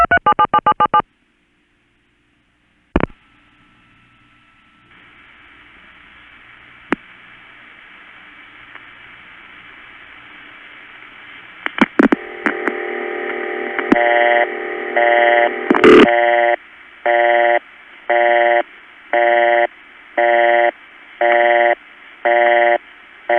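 A 1970s Brooklyn panel telephone switch on a long-distance call: a brief click and tone burst, a long steady ring tone, then a sharp changeover into a loud, evenly pulsed busy signal that repeats to the end.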